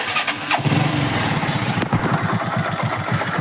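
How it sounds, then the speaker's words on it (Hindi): A Hero Super Splendor motorcycle with timing chain trouble starts and settles into a fast, even idle, its engine clattering and knocking in a steady rhythm, close and fairly loud. "इंजन का साउंड पूरा घटा घटा घटा घटा करके आ रहा है।"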